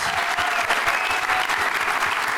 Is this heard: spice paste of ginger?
no